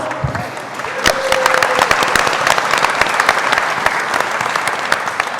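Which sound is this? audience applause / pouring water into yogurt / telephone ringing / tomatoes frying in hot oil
audience applause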